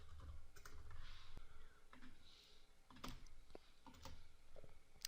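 Fingers typing on a computer keyboard, a quiet scatter of soft clicks and taps at an irregular pace, close to the recorder and alone without speech.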